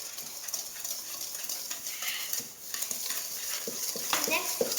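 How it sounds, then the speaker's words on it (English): Butter being whisked into cupcake batter in a bowl, a quick run of light scraping, ticking strokes that grow a little busier toward the end, fairly close and quiet. "Now just mix that together with a whisk."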